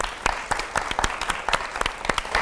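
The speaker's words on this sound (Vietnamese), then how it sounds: "Mong các bạn hãy cổ vũ cho các bạn ấy một tràng pháo tay thật to, thật giòn đây ạ." An audience at a televised show breaks into applause, a loud, dense patter of many hands clapping steadily throughout.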